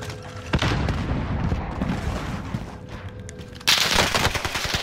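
Gunfire in the Call of Duty Warzone video game, with a Sten submachine gun in use: a single sharp crack early on, then a loud burst of close shots near the end over a busy background.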